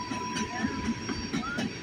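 A locomotive-hauled train on the B&O railroad in Dayton, Ohio, rumbles past with a steady low roar, faint wheel squeal and rhythmic clatter, heard nearby for a brief moment.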